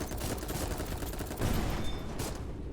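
Missile barrage in the mecha combat game Mecha Girl Souls, a dense rapid run of explosive bursts and crackling impacts rolling on steadily, loud and unbroken throughout.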